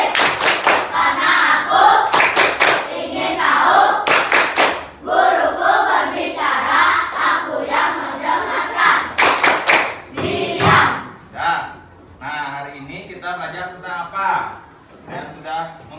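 A classroom of children in Indonesia chant and clap the Tepuk Konsentrasi routine, loud rhythmic bursts of hand claps broken by pauses, with children's voices chanting between claps and a teacher speaking near the end.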